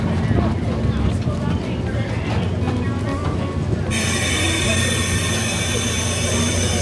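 A very long passenger train stands at Jasper station in Canada. A steady low rumble and clatter carries throughout, with a bright hiss joining midway, and voices are faintly present.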